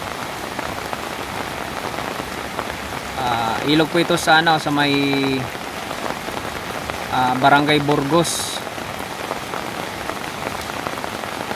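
Steady rain pours down throughout, a dense hiss of falling drops during flooding by a river in Montalban, Rizal, while someone speaks over it in two short stretches.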